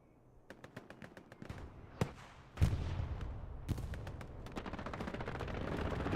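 Rapid bursts of strafing-run gunfire and explosive impacts in a tournament battle video game, sharp cracks and repeated volleys building into a dense, sustained rumble with no talking.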